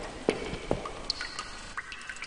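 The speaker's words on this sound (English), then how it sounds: "Can you hear that dripping water? It's just on the floor." Irregular water drops fall onto the floor in a PC game setting, a few louder splats early on followed by fainter scattered plinks against a low ambient hum, with no voices.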